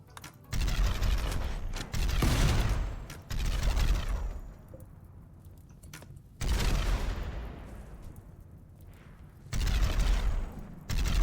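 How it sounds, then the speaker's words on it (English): Bursts of gunfire in the colony game RimWorld, loud rapid volleys in several separate bouts with quieter mechanical gaps between them, no talking. "What are they shooting at?"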